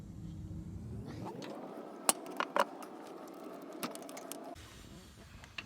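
Light metallic clicks and a few sharp ticks from a ratchet working on the A/C compressor bolts of a 2014–2020 Toyota Corolla, set over a steady low mechanical hum, close and fairly quiet.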